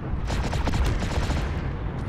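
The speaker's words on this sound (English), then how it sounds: "Unloading those AC2 cannons." AC2 autocannons firing in the MechWarrior Living Legends game during a battle, a dense, loud barrage of rapid booming shots blending into continuous rumbling fire.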